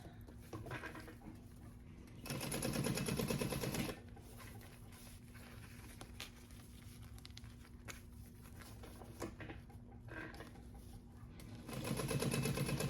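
A sewing machine stitches a pocket piece of a canvas crossbody bag, two loud bursts of rapid stitching with a quieter stretch of handling and fabric movement between them.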